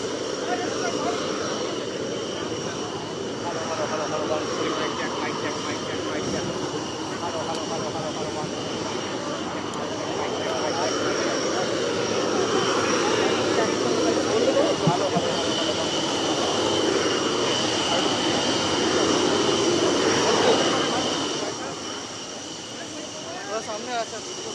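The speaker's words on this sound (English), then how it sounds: "These are the last MiG-21s of the Indian Air Force in front of you." Indian Air Force MiG-21 jets at a retirement ceremony at Chandigarh Air Base, heard as a steady, fairly loud roar of aircraft engines that swells slightly midway, with a voice speaking over it.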